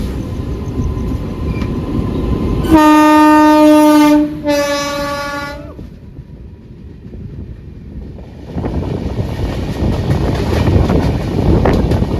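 The Awadh Assam Express hauled by a WAP 7 electric locomotive sounds its horn in two loud, sustained blasts close by, then rumbles past with rushing wind noise on the microphone.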